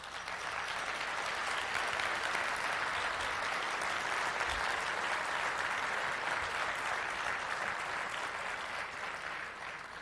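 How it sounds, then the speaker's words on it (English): A large awards-ceremony audience at the Herb Wegner Awards gives sustained, even applause that holds at a steady dense level throughout. "I want a special applause for the wayward angel."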